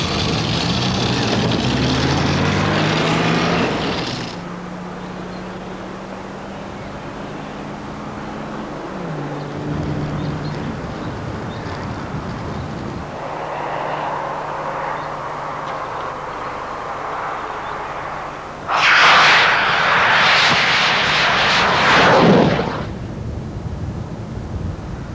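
A rocket-powered bike blasting away at high speed, heard as a loud roaring rush with a shifting engine drone and wind buffeting, then a fresh harsh surge of roar late on.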